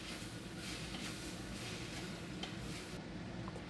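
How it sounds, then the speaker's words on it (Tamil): Capsicum pieces sautéing in oil in a pan give a steady, close sizzle with a dense crackling hiss that holds level throughout, with no one talking. "இதை போட்டு நல்லா வதக்கி விடலாம். கேப்சிகம் நல்லா எண்ணெயிலேயே வதங்கட்டும்."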